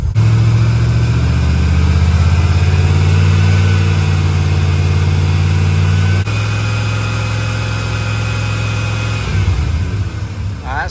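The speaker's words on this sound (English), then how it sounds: "My assistant will rev the engine just a smidge and hold it there." A car engine held at a raised idle during a battery charging test, a steady mid-pitched drone that shifts slightly partway through, then dips and wavers near the end.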